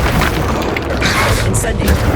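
Incendio fire spell in Hogwarts Legacy on PS5: a loud whooshing, roaring burst with booming low end and crackling flares, with speech-like game sounds mixed in.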